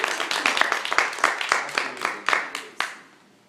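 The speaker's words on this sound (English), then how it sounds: "Can we give executive trainers a round of applause, please?" Scattered audience clapping for executive trainers at a live event, a quick burst of distinct claps that thins out and fades within a few seconds.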